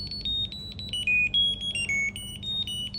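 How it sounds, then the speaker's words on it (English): A JioTag Bluetooth tracker rings with a rapid series of high electronic beeps in a bright, repeating melodic pattern, close and loud over a quiet background. "You can ring the JioTag."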